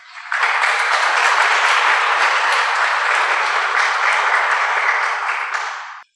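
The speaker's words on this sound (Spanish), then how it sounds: "lo recibimos con fuertes palmas, por favor" A crowd at a business event in Huánuco, Peru, gives loud, steady applause welcoming a speaker, rising quickly and holding for about six seconds before stopping.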